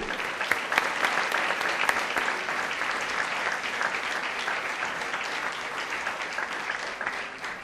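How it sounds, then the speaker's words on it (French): An audience at a scholarship presentation for sport-study student athletes claps steadily, a dense and even wash of many hands sustained for several seconds at moderate loudness with no voices over it. "Encore une fois, bonne main d'applaudissements."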